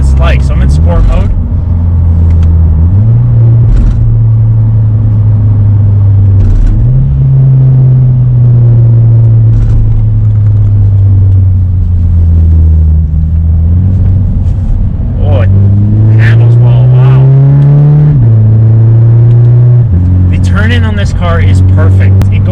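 A Scion FR-S rear-wheel-drive sports car in sport mode drives through a corner, its loud close engine droning and repeatedly climbing and dropping in pitch as it shifts, with a voice talking over it near the end.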